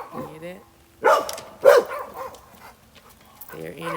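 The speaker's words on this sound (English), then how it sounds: "One dog barks, everybody barks." Several dogs bark in short bursts, two sharp loud barks spaced apart with fainter yips and a person's voice around them, fairly close in a home setting.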